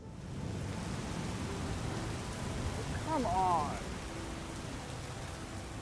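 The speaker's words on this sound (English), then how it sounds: "That was a huge clap of thunder." Steady rain pours down in a thunderstorm, a dense hiss throughout, while a brief voice speaks and a short warbling sound rises midway.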